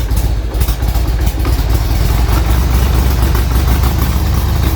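A 1995 Harley-Davidson XLH1200 Sportster idles up close just after a cold start, with a steady, loud, low, lumpy rumble that runs on with no talk over it.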